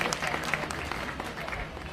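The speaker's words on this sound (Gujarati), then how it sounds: "સાહેબ મન મૂકીને જબરજસ્ત તાળીઓના ગડગડાટથી ફરીથી બધાને વધાવી લઈશું" Audience applause at a live program at the Hatkeshwar Mahadev temple in Vadnagar, a dense crackle of many hands clapping, loud and sustained throughout.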